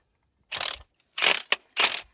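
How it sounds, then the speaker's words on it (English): Ratchet wrench loosening a banjo bolt on a brake caliper, three short clicking bursts and a sharp tick in between, close and fairly quiet with no talk. "Banjo bolt is released."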